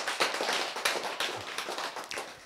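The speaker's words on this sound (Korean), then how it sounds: "박수." Applause breaks out at a lecture: a crowd's irregular clapping comes in quick bursts and patters, fairly close and lively, with no voices over it.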